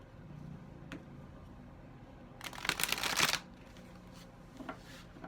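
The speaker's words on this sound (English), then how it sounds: "And then I will do one more shuffle." A single quick riffle of a card deck, a crisp fluttering burst lasting about a second amid quiet room tone with faint clicks.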